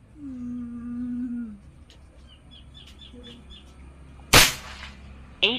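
Single sharp airsoft rifle shot from a GCMAG BR setup striking a target, a loud broadband crack near the end following quiet bird chirps and a low hum.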